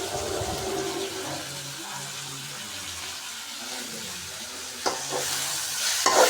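Sri Lankan style chicken curry masala stirred and sautéed in a pot, a steady close sizzle with scraping spoon strokes and a couple of sharper clinks near the end, no talking.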